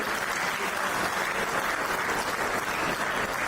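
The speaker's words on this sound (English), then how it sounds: "please give a big clap to Shekhar Mehta" An audience claps at a Rotary district governor installation ceremony, a steady even wash of applause filling the whole stretch at moderate loudness.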